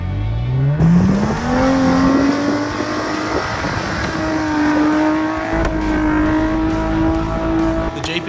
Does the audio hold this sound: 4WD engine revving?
yes